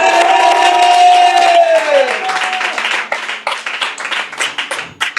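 A church congregation applauds and cheers loudly together at a worship service, with a sustained shout that gives way to rhythmic, uneven clapping and scattered voices.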